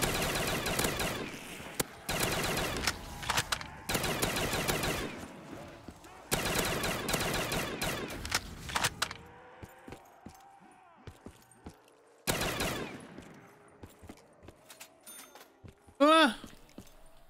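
Bursts of rapid automatic gunfire from a video game weapon rattle in several short volleys, then give way to sparse clicks and a brief electronic chirp, with a voice speaking between the shots.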